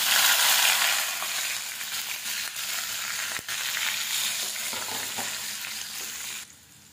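Cumin and finely chopped garlic fry in hot oil for a karuvadu thokku, a loud, steady sizzle with stirring that fades near the end, with no talk.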